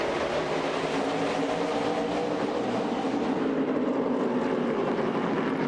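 Stock cars race at Martinsville short track, a dense, continuous engine roar from a pack of cars, loud and steady throughout with no talking.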